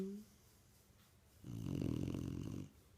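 A puppy snores in a loud, rumbling burst of about a second near the end, with a purring, cat-like quality, close to the listener after a quiet stretch.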